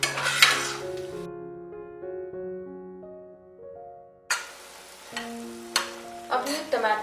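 Tomato puree being stirred and cooked in a pan for palak paneer, with soft scraping and sizzling and a few sharp utensil clinks against the pan, separated by a stretch of gentle melodic music.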